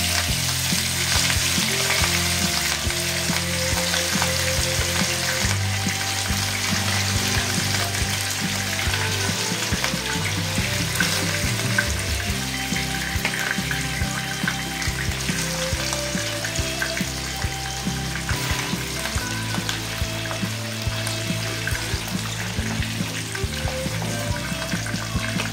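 Katla fish pieces frying in hot mustard oil give a loud, steady sizzle that runs unbroken throughout, with occasional soft stirring and clinks from the pan.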